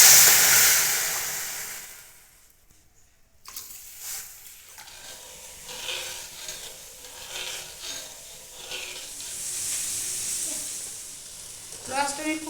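Sugar and water heat in a kadai for syrup, giving a continuous soft sizzling hiss with scraping and stirring noises, a brief quiet gap early on, heard close without talking.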